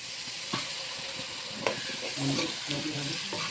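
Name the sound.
potatoes frying in a pan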